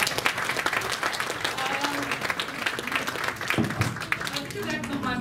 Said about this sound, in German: ein Applaus erstmal